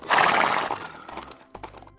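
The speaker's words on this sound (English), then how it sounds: "There are horses on the farm" Horse whinny on a farm in a Peppa Pig video game: one loud neigh in the first half second that fades out, followed by quieter clip-clop sounds.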